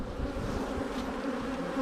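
A dense swarm of honey bees shaken off a hive frame buzzes in a loud, steady droning hum close by, with no talking over it.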